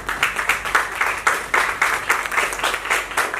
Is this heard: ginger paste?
no